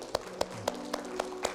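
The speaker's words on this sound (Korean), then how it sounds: "우리를 승리케 하시는 하나님께 감사의 박수를 드립니다." Six slow, evenly spaced handclaps ring out close by at the end of a Korean church worship service, crisp and distinct, with a faint sustained tone underneath.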